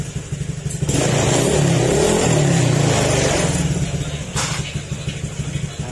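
A cold motorcycle engine idles with a rough, uneven beat, then rises into one loud sustained rev of a few seconds before settling back to the lumpy idle, close by.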